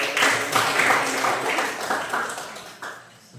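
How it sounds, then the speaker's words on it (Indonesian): A classroom gives a short burst of applause, many hands clapping at once, loudest at the start and fading over a few seconds. "Coba tepuk tangan sedikit dulu"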